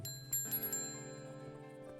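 Small bells jingle in the video game Above Snake, a bright metallic ringing with sustained tones over a soft background drone, with a few sharper strikes near the start.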